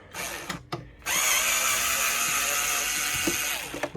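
A small cordless power screwdriver whirs steadily for about three seconds while backing screws out of the top of a mini air compressor, close up, with short bursts and clicks before and after.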